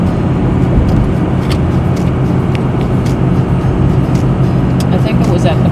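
A car on a road past Notre Dame Provincial Park toward Corner Brook, Newfoundland, heard from inside as a steady, loud engine and tyre rumble. People talk over it throughout.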